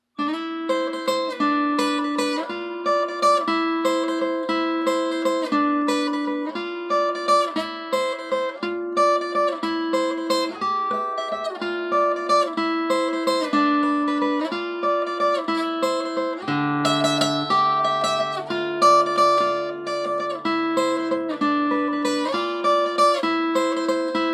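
Intro and verse of a song played on guitar, a steady ringing riff of repeated plucked notes and chords that carries on without pause, close and clear with no talking.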